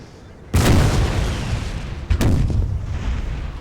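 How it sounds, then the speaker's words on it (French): Artillery firing in the Napoleon: Total War battle game, two loud booming cannon volleys about a second and a half apart, each followed by a long rumbling tail. "L'artillerie qui tire au jugé"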